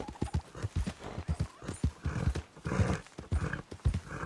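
A horse's hooves clip-clop steadily while being ridden in Red Dead Redemption 2, a close, continuous rhythmic gait with a brief whinny-like note near the start and no clear talk.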